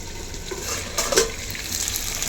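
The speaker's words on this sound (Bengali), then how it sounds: "সবজি দিয়েছি মশলার সাথে কষছে আর দেখো কষতে কষতে" Cauliflower and mixed vegetables fry with spices in a pan while being stirred, giving a steady close sizzle with scraping strokes and a few louder clinks around the middle.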